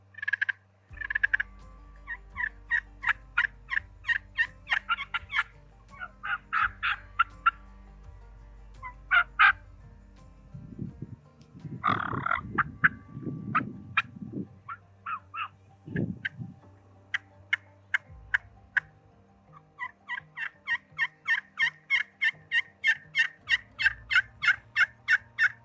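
Hand-worked mouth and slate turkey calls imitate turkey yelps in the woods, producing repeated rhythmic series of yelps with a short burst of rougher, lower calling in the middle, all fairly quiet.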